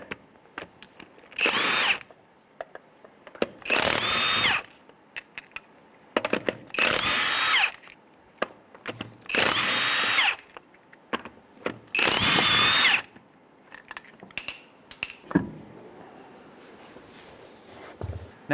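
An impact wrench with a 19mm socket spins off the passenger-side wheel lug nuts of a 2003–2011 Honda Element in five loud, evenly spaced whirring bursts, each lasting about a second, with metallic clinks and handling noises between them.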